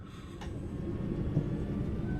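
Class 323 electric train pulling away in a train simulator game, a low steady rumbling hum that builds slightly over a couple of seconds, with a faint click near the start.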